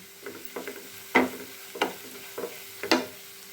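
Garlic is sautéed in a pan for a dates pickle, with a soft sizzle under repeated spoon scrapes and taps, six or seven distinct strokes close by and nobody talking.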